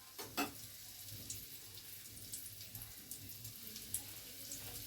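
Cut dessert pieces fry in a pan, giving a soft, steady hiss with a few sharper crackles early on, quiet and close with no talking.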